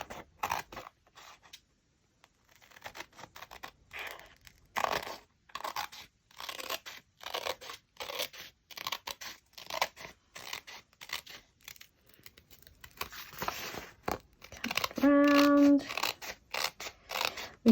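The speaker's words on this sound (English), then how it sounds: "just cut around my pencil mark." Scissors snip through pianola roll paper along a pencil mark in quick, irregular bursts of short crunchy cuts, close up, with a brief tonal squeak near the end.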